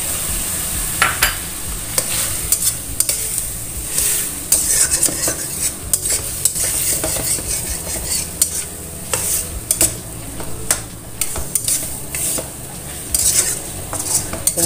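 Tomatoes being stir-fried in a pan, a constant sizzle with a spatula scraping and clattering against the metal in quick irregular strokes, loud and close, with no one talking.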